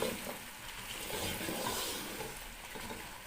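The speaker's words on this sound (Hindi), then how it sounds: "ये देखें जी, ये फ्राई हो रहा है।" Beef bong, the bone-in shank cut, fries in a pan with a soft, steady sizzle and bubbling hiss close by, fairly quiet throughout and with no one speaking.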